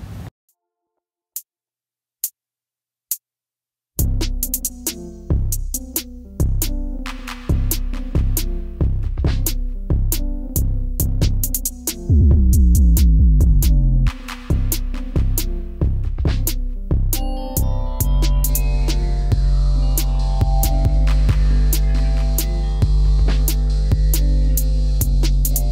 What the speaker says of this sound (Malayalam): ഇപ്പം ഞാൻ യു ഷേപ്പിൽ ഇത് സ്റ്റിച്ച് ചെയ്തെടുത്തു.